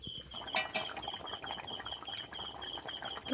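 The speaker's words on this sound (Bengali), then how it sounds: "একবার এইভাবে নাড়িয়ে দেব উঠে যাবে না এইভাবে নাড়াচাড়া করতে হবে" Lota (Bombay duck) fish cooking with taro in a pan, stirred with a utensil: two sharp metallic clinks early on, then a steady soft scraping and patter throughout, close by.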